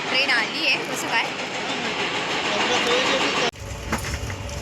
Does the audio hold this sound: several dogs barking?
no